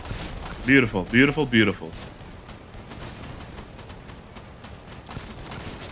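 Vehicle gunfire in Crossout, a quick run of bursts early on and then a scatter of fainter distant shots and impacts, with a brief spoken word in the mix.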